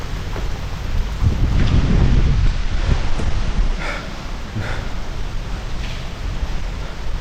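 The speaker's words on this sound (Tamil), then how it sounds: "புயல் அடிச்சிட்ருக்கு. இங்கே வெளியே புயல் அடிச்சிட்ருக்கு." Strong storm wind roars and buffets outside during a cyclone, a dense rumbling gust that swells and eases over several seconds, loud and close with faint rustling, no talk.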